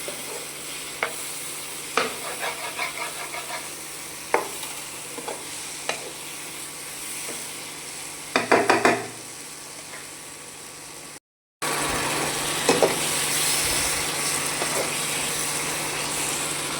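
Mushrooms frying in a pan are stirred, giving a continuous sizzle with repeated sharp spoon clanks and scrapes. A brief rattling burst comes near the middle, followed by a short dropout, then the frying resumes close up.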